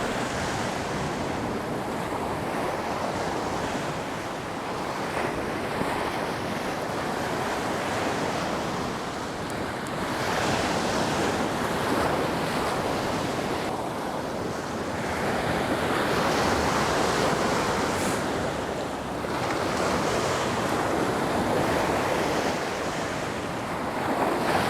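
Ocean waves roll steadily onto the shore, a continuous wash of surf that swells and recedes, with wind buffeting the microphone throughout and no voices.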